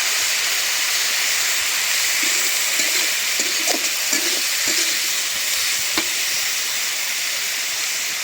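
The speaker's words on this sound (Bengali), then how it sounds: "পেঁয়াজের সাথে তেলের সাথে একটু ভাজা দিয়ে নিলাম।" Dried fish and onions fry in oil with a steady close sizzle, broken by a few soft scraping stirs and small pops partway through, no voices.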